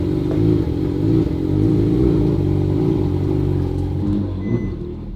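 Ferrari 458 fitted with a Capristo exhaust, a loud, close engine rumble with a low throbbing drone and some clatter, easing off toward the end.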